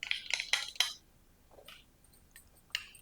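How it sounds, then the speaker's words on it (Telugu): A spoon stirs custard powder into cold milk in a bowl, giving a quick run of bright clinks and scrapes, then a quieter stretch with a few scattered taps and a last louder clink near the end. "ఈ పౌడర్ ఇందులో వేసేసుకొని మొత్తం అంతా మంచిగా కలిపేసుకోవాలి"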